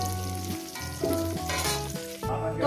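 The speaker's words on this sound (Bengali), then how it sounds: "আলুগুলো ভাজা হয়ে গেছে" Potatoes fry in oil for mutton curry, a soft sizzle and crackle sitting under a steady background of tonal music, with a few louder bursts as the pan is stirred.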